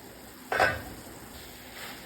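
Washed mung dal stirred in a pan while cooking a vegetarian ash gourd dish; one short scrape-and-sizzle burst, then a faint, quiet simmer and a soft second stir.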